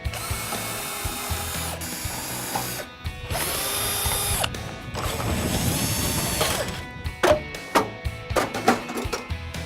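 A power drill removes screws from an old downspout, whirring and ratcheting close by in several bursts, followed by sharp metallic clicks and knocks.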